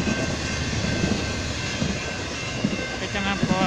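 BNSF freight train with a KCS locomotive passing in snow: a steady, loud rumble of rolling railcars holds the whole stretch, with faint clicking of wheels over rail joints near the end.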